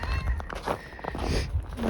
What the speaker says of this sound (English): I got a cat down here meowing at me